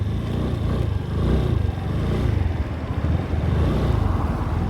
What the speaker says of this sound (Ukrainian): Моторчик працює гарно, рівні оберти, приємний звук.